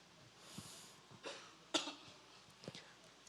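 Several faint, scattered coughs and throat-clearing sounds from people in a quiet room, a few short irregular bursts over a few seconds.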